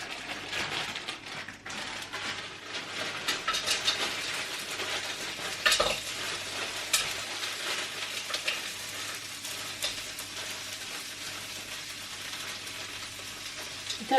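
Vegetables and prawns sizzle steadily in an oiled pan, with frequent scraping and clattering stirs layered over the constant hiss; close and fairly loud, no talking.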